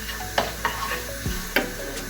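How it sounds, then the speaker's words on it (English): Cumin seeds (jeera) hit hot oil and crackle, with several sharp pops and spatters over a steady sizzle, close up, while cooking horse gram chutney. "The oil is ready. So I'm going to add 1 teaspoon of cumin seeds."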